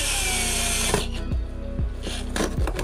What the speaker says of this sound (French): il faut une scie cloche diamètre 25